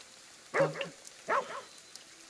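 A dog in the video game Ghostwire Tokyo barks twice in short bursts, moderately close, against a faint steady background with patter like rain.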